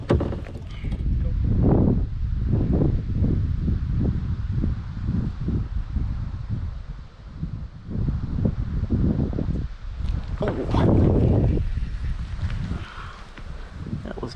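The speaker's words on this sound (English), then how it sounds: "Now the wind's blowing me off the spot" Gusty wind buffeting the microphone on a kayak out on the water while trout fishing, a loud continuous rushing roar with rising and falling surges and some rustling.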